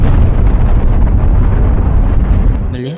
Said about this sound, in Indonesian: Melihat ledakan barusan